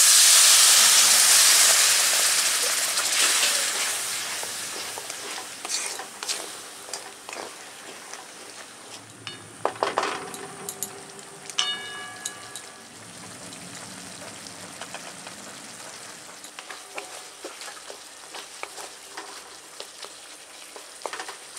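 Roasted coriander and cumin powder hit a hot pan with a splash of water, bursting into a loud hiss that fades to soft bubbling, with scattered spoon clicks and scrapes.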